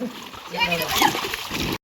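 A sudden splash and slosh of water, as if someone drops in, mixed with excited voices shouting, then abrupt silence.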